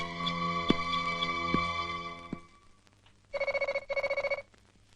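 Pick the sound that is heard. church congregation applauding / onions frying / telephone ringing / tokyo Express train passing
telephone ringing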